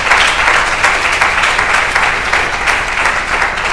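A church congregation applauds together in a hall, a dense, steady wash of clapping that stays loud and close throughout, with no clear talk over it.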